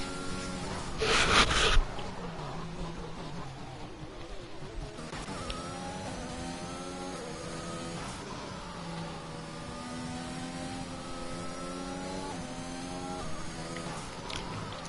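Racing cars scream through a no-assists video game league race, their engine notes rising and falling in pitch, fairly quiet and continuous, with a brief louder burst early on.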